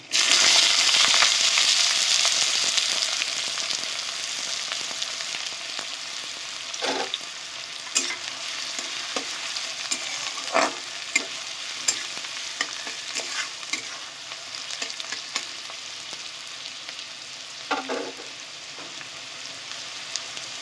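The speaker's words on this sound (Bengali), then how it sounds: "এবার আমি কুচানো পেঁয়াজগুলো দিয়ে দেবো।" Chopped onions sizzle in hot oil with garam masala for a dhaba-style chicken tadka, a loud hiss at first that eases into a steady fry, punctuated by scattered clinks and scrapes of stirring.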